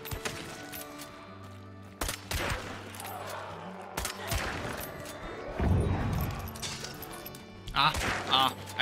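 Scattered gunshots from the video game Hunt: Showdown, a few sharp cracks and booms spread through the clip, partly under someone talking, with game ambience behind.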